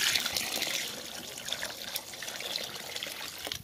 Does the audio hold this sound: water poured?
yes